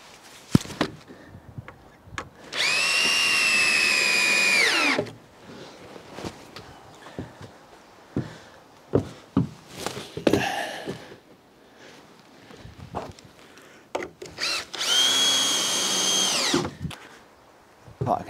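A power drill drives screws into wooden wall frames clamped together, with two sustained high whirring bursts separated by knocks, footsteps and handling sounds in a workshop.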